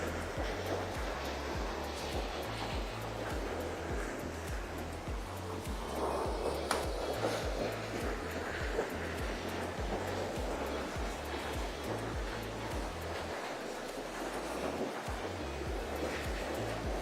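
Fast-flowing river water on a fishing trip rushes as a soft, steady broadband wash with light wind buffeting the microphone, faint and continuous without a break.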